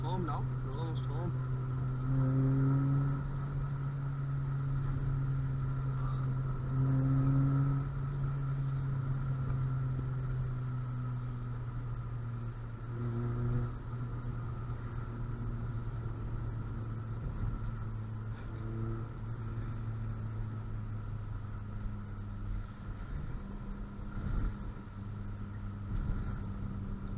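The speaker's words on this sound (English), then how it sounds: "hopefully the exhaust is quite loud" Cabin view from a Honda Civic EP2 while driving: a steady low engine and exhaust drone with a few gradual pitch rises and falls as it accelerates and eases off, and a voice talks over it at times.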